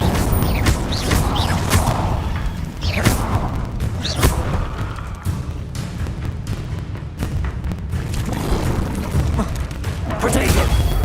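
Incendio and other combat spells cast in Hogwarts Legacy, a string of booming impacts and fiery bursts in uneven rhythm, loud and close, with a voice talking over the fight.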